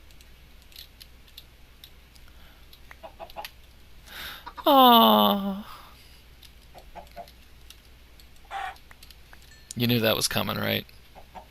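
Chickens cluck in the Minecraft video game: one short, loud burst of rising and falling squawks near the middle, then a brief noisy flurry near the end. A person speaks quietly between the calls.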